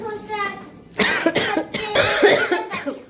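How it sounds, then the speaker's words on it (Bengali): A few sharp coughs at home during breakfast, loud and close, mixed in with someone talking nearby. "কাশি হয়েছে আমারও।"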